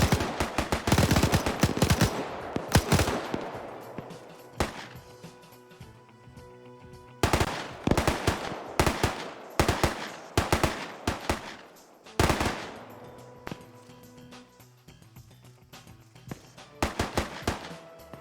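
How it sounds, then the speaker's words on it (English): MG3 machine gun laying down suppressing fire in a video game battle, sounding as loud sustained bursts of rapid automatic fire that stop and restart several times, with a few single shots between the bursts. "So now you're hearing the MG3 starting to suppress."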